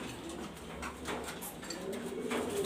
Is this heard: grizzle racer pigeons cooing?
yes